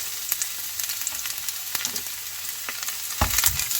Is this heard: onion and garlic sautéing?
yes